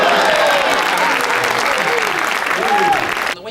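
An audience claps loudly and continuously in an entertainment venue, with dense, sustained applause and some crowd noise that cuts off abruptly at the end.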